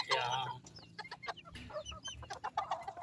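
Bantam chickens cluck in short, quick bursts at close range, with a few sharper calls mixed in, against a quiet backyard background.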